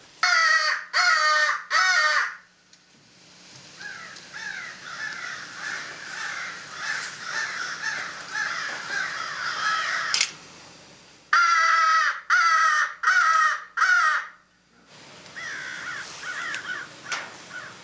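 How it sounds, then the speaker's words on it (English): Repeated harsh crow caws in bursts, several quick calls at a time, with a softer stretch of chattering calls between them, fairly close and loud. "He could call in crows."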